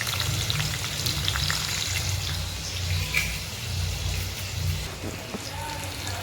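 Onions fry in a pan for homemade dal, a dense continuous sizzling hiss close up, steady and loud throughout with small crackles on top.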